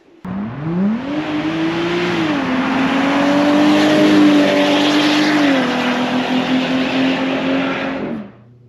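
A supercharged 2020 Jeep Wrangler JL engine with an Eaton TVS R1320 supercharger revs up and holds a high, whirring drone with a smooth pitch sweep before cutting off, close and loud.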